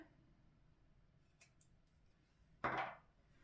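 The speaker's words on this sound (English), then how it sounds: "now it's time to cut the yarn and fasten off" Scissors cut yarn while finishing a crocheted square terry mat: a faint metallic tick, then one sharp snip, close in a quiet room.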